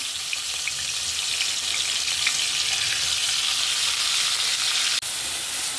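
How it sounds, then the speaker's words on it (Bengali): Chopped onion and green chili hit a little hot oil and fry with a loud, steady, close sizzle. A single short knock sounds near the end. "অল্প একটু তেল দিলাম তার সাথে আমি এই যে ঝাল পেঁয়াজটা দিয়ে দিলাম"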